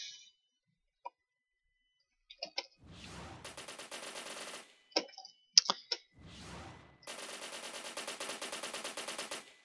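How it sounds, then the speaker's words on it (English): Automatic gunfire from an enemy in a video game, with two long sustained bursts of rapid shots and a few short clicks and pops between them, loud and close with no talk. "Ooh, that guy's still shooting me, somehow."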